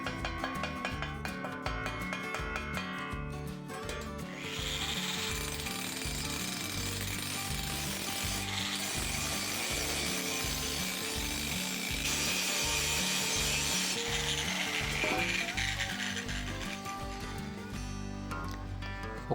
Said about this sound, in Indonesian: Kemudian rapikan hasil pengelasan menggunakan gerinda.